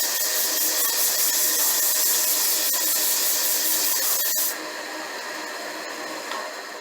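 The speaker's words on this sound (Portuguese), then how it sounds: "Uma vez que a gente aplicou a lixa em toda a superfície" Sandpaper rubbing across a wood-turned piece spinning on a lathe, a continuous loud, hissing abrasive sound that drops to a softer level partway through, with no talking.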